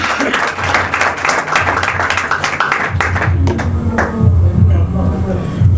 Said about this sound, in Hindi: आइए खुदावंद के लिए जोरदार ताली